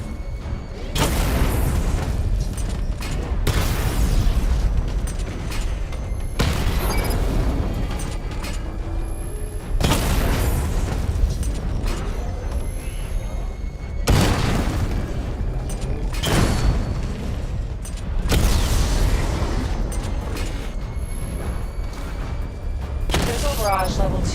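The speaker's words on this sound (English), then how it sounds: "Charge the missile barrage to level 2 to destroy up to 4 targets at once." Missile barrage explosions from Batman: Arkham Knight land as loud, heavy booms every few seconds over a steady rumbling bed, with a calm synthetic voice talking through it.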